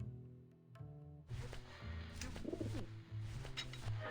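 A pigeon-like bird coos in the video game Grim Fandango, soft repeated coos rising over a steady game backdrop of low music and ambience, with no talking.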